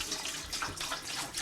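About a gallon and a half of water pours steadily into a container for homebrewing beer, a continuous splashing gush heard up close with no talking over it.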